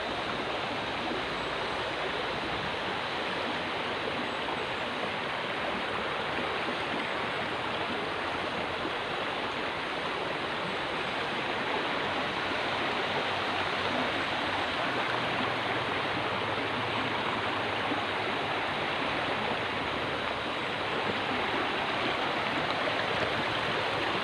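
A stream flows through a grove of bamboo trees. Its soft, steady hiss of running water stays even and moderately distant for over twenty seconds, with no voices.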